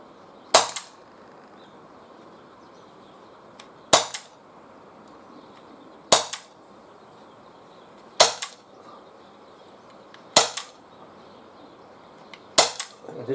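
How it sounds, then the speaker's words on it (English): A Walther PPQ M2 .43 caliber paintball pistol fires six sharp, close shots about two seconds apart, each followed by a quick secondary snap, with quiet background between them. "So we're going to take 8 more shots and see how they perform"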